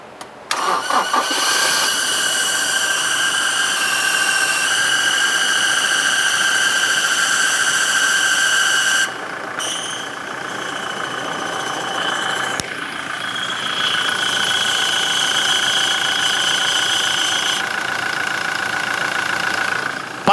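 A 2017 Toyota Hilux with about 100,000 km on its clutch cranks and fires, then settles into a steady, loud, close diesel idle with a constant hum. The engine note dips briefly twice midway before resuming evenly, with no talk over it.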